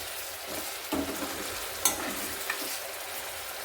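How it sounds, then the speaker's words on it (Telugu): Mutton pickle frying in a pan on high heat, a steady close sizzle broken by a few sharp spoon scrapes and clinks, with no voices. "ఈ విధంగా ఒక రెండు నిమిషాలు మంచిగా హైలోనే పెట్టుకుని ఫ్రై చేసుకోవాలి"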